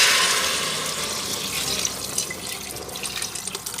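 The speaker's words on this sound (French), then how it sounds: "on va mettre tout simplement 2 litres d'eau" Two litres of water poured into a pot for a French potage Saint-Germain, a steady close splashing stream like a running tap that softens as the pot fills, with no talk.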